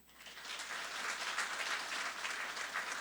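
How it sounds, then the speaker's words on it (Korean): Church congregation at a Sunday worship service applauding in welcome, a soft, even patter of many hands clapping that swells after a quiet start and holds steady for a few seconds. "함께 축하로 박수로 맞이했으면 좋겠습니다"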